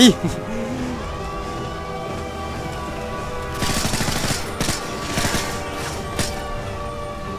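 Gunfire from the AP5 in the Call of Duty Modern Warfare 3 campaign on Veteran difficulty: after a steady stretch of game background, sharp bursts of shots cluster in the second half, loud over the continuing score.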